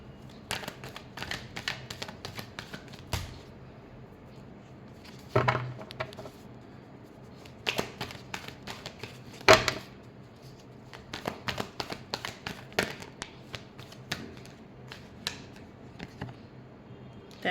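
Tarot cards are shuffled close by, a quiet run of soft papery riffles and taps with a few louder slaps as the deck is squared, no talking.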